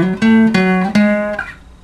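Short acoustic guitar phrase, played up close as a few strummed chords in quick succession, the last ringing out and fading, with no talk.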